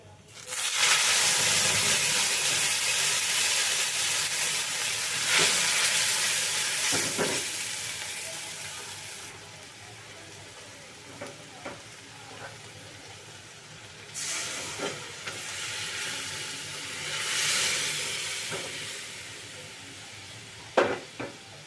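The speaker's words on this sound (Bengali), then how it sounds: "এখন আমি এর মধ্যে দিয়ে দেব সেদ্ধ করে রাখা ডাল" Boiled moong dal goes into a cumin tempering in hot ghee, setting off a loud sizzling hiss that surges and eases as it is stirred, with repeated fresh bursts of frying over a long stretch.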